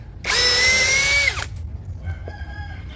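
A loud Dongcheng cordless brushless impact drill whines at high pitch for about a second, then winds down, followed by a quieter, lower motor hum.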